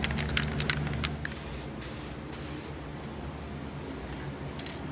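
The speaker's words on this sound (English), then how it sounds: "get this gasket set up, and then go ahead and start spraying over it" A continuous hiss of aerosol copper spray being applied to a head gasket, close up, with a few brief bursts and pauses over steady background noise.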